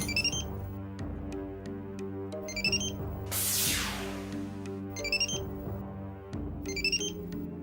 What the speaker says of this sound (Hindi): मोबाइल की आवाज तुम्हारे पर्स में से ही आ रही है।